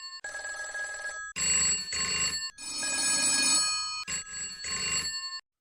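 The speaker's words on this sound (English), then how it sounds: "Telephones would ring with no one at the other end." Telephones ringing in a lawyer's office, a rapid electronic trill in repeated bursts with short gaps, fairly close and clear, no voices.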